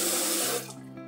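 A bathroom sink faucet on the top floor of a resort villa runs with strong water pressure, a loud steady rush that eases into a softer trickle after about half a second.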